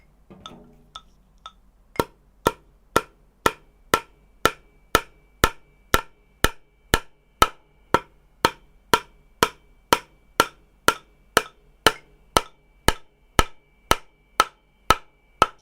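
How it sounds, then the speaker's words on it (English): Steady hammer strikes land in strict time with a 120 BPM click, a few loose taps first and then about twenty-seven even, sharp, ringing blows at half-second intervals, close and clear with no talking. "Hammering at 120 BPM"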